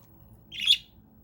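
A pet budgie chirps once near the mic, a single bright, brief call rising over a quiet indoor room with faint low background hum.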